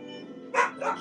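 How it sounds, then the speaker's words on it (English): A pet dog barks twice indoors to be let out, two quick, fairly close barks after a faint whine. "she's gonna continue barking"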